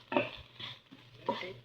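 Garlic fries with leafy greens in a pan as they are stirred, giving a few close scraping and clinking stirs over a faint sizzle.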